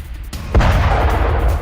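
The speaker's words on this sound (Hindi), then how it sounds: "कलांतरी पोर्ट पर अटैक के बाद भीषण विस्फोट हुआ है" A massive explosion following an attack on Kalantari port in Chabahar: a sharp, loud blast hits suddenly, then a heavy rumbling roar sustains and slowly rolls on without fading.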